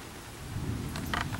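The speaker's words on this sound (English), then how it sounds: "looks like it's got a thunderstorm out" Thunderstorm outside with rain: a steady low rumble of thunder builds and holds under fainter broadband rain patter, with brief brighter bursts near the end, fairly distant and no talking.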